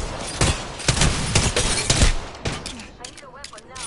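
Heavy gunfire from an Apex Legends match: sharp, rapid shots crack in dense bursts close by, then thin out into scattered reports with a faint voice underneath.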